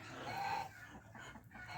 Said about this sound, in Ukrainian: Правда, курочки? Кури в нас несуться